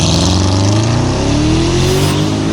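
A 4.8-litre twin-turbo V8 engine in a Porsche Cayenne Turbo S revs hard and climbs in pitch, loud and close, with a steady throaty roar and no voices.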